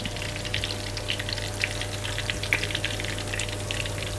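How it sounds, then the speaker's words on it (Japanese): Steady crackling sizzle of kakiage vegetable fritters with onion deep-frying in hot oil, pressed to the pot bottom, with sharp pops scattered throughout over a low constant hum. "こんな感じでくるくるとね鍋の底に押し付けながら揚げていきます"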